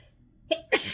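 A short sharp sneeze during a sneezing attack, with a brief catching intake and then one loud explosive burst close to the ear.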